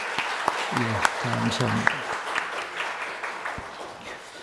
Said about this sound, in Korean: 우리 모든 분들 박수로 환영하겠습니다